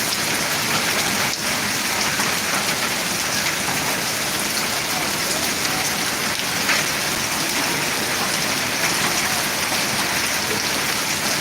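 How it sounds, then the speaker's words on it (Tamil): Steady, loud rain pours down in Ariyalur, an unbroken dense hiss with occasional sharper drop hits throughout. "மழை பெஞ்சிட்ருக்கு"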